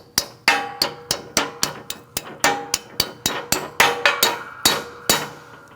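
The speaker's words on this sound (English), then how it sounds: "Hold it still and just tap it in all the way around." A hammer taps a front ABS tone ring into the wheel knuckle of a 2002-2006 Toyota Camry, giving about twenty sharp, close metallic knocks in a steady, even rhythm, each with a short ringing decay.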